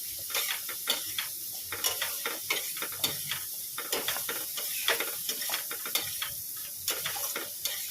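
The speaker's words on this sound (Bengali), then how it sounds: "ওই ভাজার তেলেই কলম দিয়ে বাঁধাকপিটা বসিয়ে দেবো" Cabbage frying in oil in a pan produces a steady, dense sizzle and hiss, with frequent rhythmic ticks and scrapes from stirring. The cooking is close and moderately loud, and nobody speaks.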